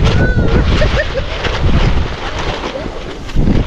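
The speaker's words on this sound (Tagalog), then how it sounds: "Lakas ng hangin, parang di natin kakayanin." Strong wind buffets an outdoor camp on a hilltop near the sea at Mabini, Batangas, a loud continuous rushing roar battering the microphone throughout.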